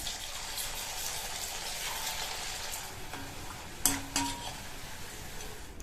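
Raw plantain pieces deep frying in hot oil, a steady broadband sizzle with a few sharp clinks of a utensil against the pan partway through.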